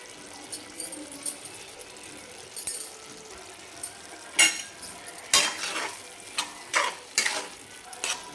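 Green tomato chutney with coriander is stirred in a pan, a soft sizzle under a series of irregular spoon scrapes and metallic knocks on the pan, closer and louder toward the end, with no speech.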